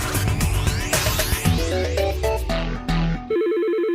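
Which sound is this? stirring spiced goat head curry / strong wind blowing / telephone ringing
telephone ringing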